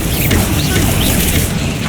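A Bombarda spell explosion from Hogwarts Legacy, a dense, loud burst of crackling noise that sustains without a break for about two seconds.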